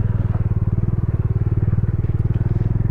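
A motorcycle climbing the Khardung La road near Leh, Ladakh, its engine thumping in a fast, steady pulse, close and prominent with no talk over it.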